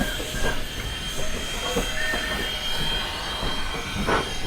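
Strasburg Railroad steam locomotive 90 runs close by with a continuous rumble and hiss, faint rhythmic chuffing and some wheel and rail noise, no talk.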